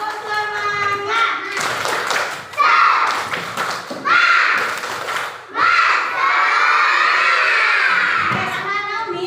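Schoolchildren in a classroom doing a rhythmic spirit clap with a teacher, bursts of loud clapping and thumps mixed with children shouting and cheering together, several rising waves of voices and claps.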